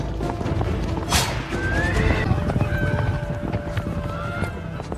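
Horses whinny loudly several times over a rapid clatter of hooves as they gallop away, with a busy dramatic backdrop underneath.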